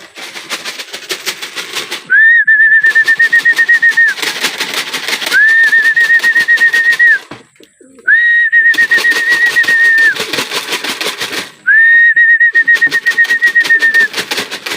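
Two-month-old young pigeon repeatedly giving a steady, high whistling coo-like call, with roughly four sustained calls spaced a couple of seconds apart. The calls are loud and close over a harsh, buzzing background.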